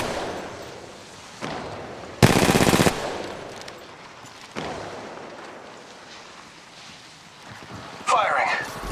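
Gunfire in a battle royale video game, a loud rapid automatic burst in the middle followed later by a second burst, with a voice talking quietly over the surrounding game ambience.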